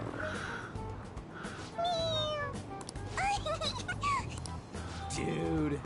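Repeated toy-cat meows from Persona 5 Royal as its head is pressed again and again, several quick cries in a row over a steady game background with a voice mixed in.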